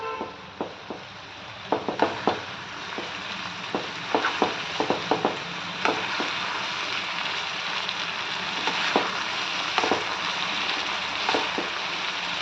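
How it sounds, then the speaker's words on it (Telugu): Stuffed eggplants frying with onions in a pan, a steady sizzle broken by repeated scraping, clinking stirs of a spoon against the pan. "ఈ వంకాయలతో పాటు ఇది కూడా వేయించుకోవాలి ఇట్లా."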